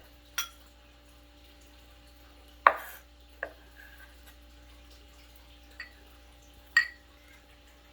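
Garlic cloves chopped with a knife on a board in a home kitchen, heard as a handful of sharp, separate knocks spaced irregularly against a quiet background, with no talking.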